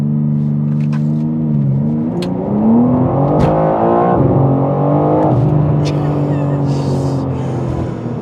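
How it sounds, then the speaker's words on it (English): A BMW M4 CSL launches hard on a timed acceleration run, its engine roaring loud and close as it climbs through the revs with gear-change dips, while a voice talks over it. "so we'll go for a second run, and I'd like to see a sub 4 second time."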